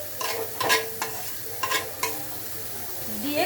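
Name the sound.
stir-frying ground kakrol (spiny gourd) filling in a pan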